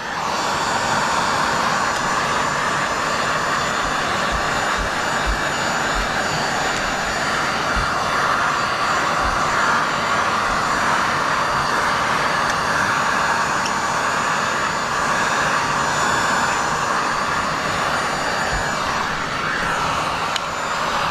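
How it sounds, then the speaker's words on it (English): A heat gun hums steadily in cool-down mode during back-glass window tinting on a 2023 Toyota Camry, a constant whirring drone with no talking over it. "it's got this cool down mode. So the annoying thing is you have to listen to it sit there and hum."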